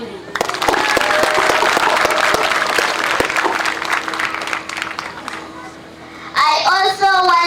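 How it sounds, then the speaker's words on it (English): Audience clapping for a honoree at a Day of the African Child event, a sustained dense burst of applause with children's voices mixed in, tapering off before a voice resumes speaking near the end. "we give a big hand clap to Madam Julie"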